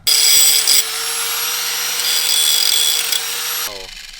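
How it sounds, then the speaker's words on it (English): Grinder cutting into the muffler pipe of a Honda EK hatchback, a loud, close, high continuous whine with a harsh start that drops slightly and then spins down at the end. "Now we gotta grind it down."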